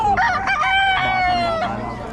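A rooster crows loudly nearby in one long drawn-out call, with chickens clucking around it.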